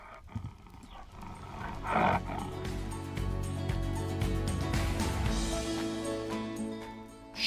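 A saber-toothed cat roar sound effect played at an ice age exhibit, rising into a loud, sustained growling roar after a brief onset and holding steady for several seconds with a deep rumbling body.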